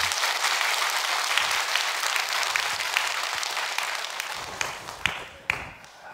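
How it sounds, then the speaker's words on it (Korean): Applause from a congregation at a dawn church service, steady dense clapping that fills the room before thinning into a few scattered final claps. "여러분 크게 박수 한번 해주셔요"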